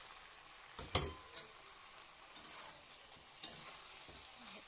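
Vegetable curry being stirred in a pan, soft and faint, with a quiet sizzle and a few sharp scrapes or clinks of the spoon against the pan.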